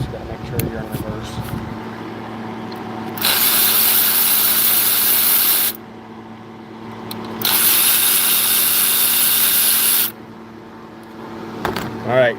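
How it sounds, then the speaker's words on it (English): A power tool fitted with a T30 Torx bit backs out bolts on a 2019 Buick Encore, giving two loud sustained whirring bursts with an idling hum between them. "Again, T30 Torx bit, and you're going to go ahead and just zap them off."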